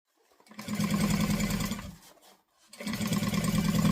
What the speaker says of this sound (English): I'm going to backstitch at the beginning and the end.